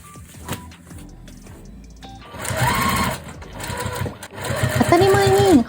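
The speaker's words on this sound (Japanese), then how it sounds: "それではキッチンペーパーを縫い付けながら組み立てていきます。" A sewing machine stitches kitchen paper into a wedding dress with coarse, widely spaced stitches, giving bursts of close, rapid mechanical chatter separated by short pauses, with a voice talking over parts of it.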